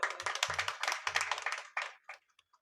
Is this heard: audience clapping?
yes